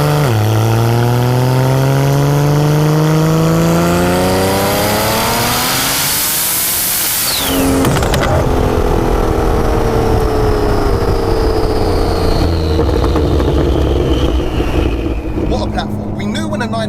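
A 1536 bhp Porsche 911 Turbo S with a 4.1-litre stroker engine accelerates hard, its note climbing through the gears with a sharp shift, loud and close inside the cabin while people talk over it.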